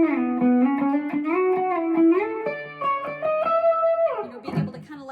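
Sustained electric, effects-laden melody on an electric octave mandolin with long gliding notes and bends, played alone.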